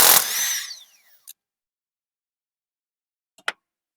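A power impact tool spins off a 19mm sway bar link nut on a Toyota Camry front strut in one short loud burst that dies away, then silence and a brief metallic clink.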